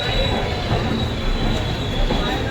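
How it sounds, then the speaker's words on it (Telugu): The 22614 Shraddha Setu Express, running between Ayodhya and Rameswaram near Villupuram Junction, rolls along with a loud, continuous rumble and a thin steady wheel squeal, heard from on board. "22614 శ్రద్ధా సేతు ఎక్స్ప్రెస్"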